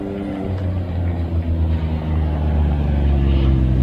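A car with a big turbo and exhaust pulls away hard from a standstill on a 0 to 60 run, its loud, steady low engine roar building close by throughout.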